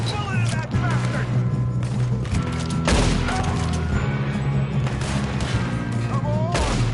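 Red Dead Redemption 2 gunfight: dense volleys of rifle and pistol shots crack and boom continuously at close range over a low rumbling game soundscape, with shouting voices mixed in.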